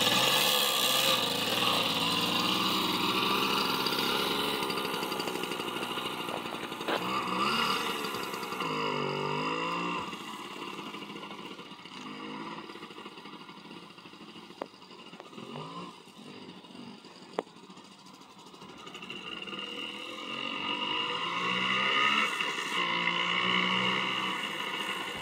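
Motorcycle engine starting up and running, then riding off with the revs rising and falling; a loud, continuous mechanical drone with shifting pitch.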